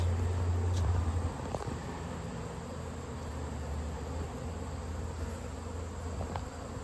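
Honeybees buzzing steadily during a hive inspection while small hive beetles are being cleared, a continuous insect drone throughout with a low hum at the start and faint handling knocks.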